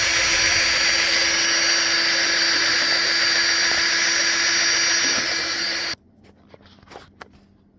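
Power mixer churning sugar water into bee feed in a large bucket, a steady loud motor whine with a fixed tone holding for about six seconds, then cutting off to quiet clinks and small handling noises.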